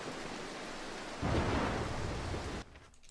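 Steady heavy rain hiss in the video game Mark of the Ninja, with a deeper rumbling swell of thunder in the middle, cutting off abruptly near the end.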